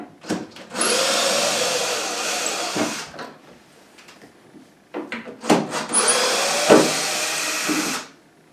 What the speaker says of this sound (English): We're going to take those three screws out